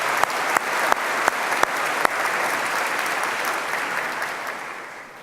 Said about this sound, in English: and I think a round of applause again.